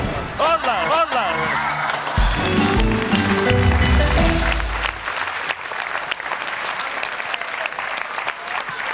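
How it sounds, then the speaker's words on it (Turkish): Studio audience applause for a contestant on a Turkish TV game show, dense and loud at first, then thinning into scattered clapping, with someone talking over it and brief thumps and a low rumble in the middle. "Alkışlar Burhan Bey'in arkasından"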